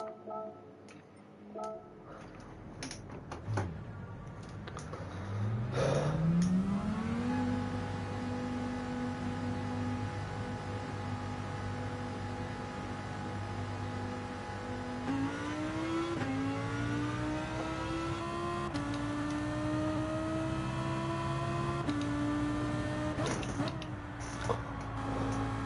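A Lamborghini GT3 race car engine in Gran Turismo 7, revving up through the gears in long rising sweeps with brief shift breaks, steady and fairly loud, preceded by a few sharp clicks at the start.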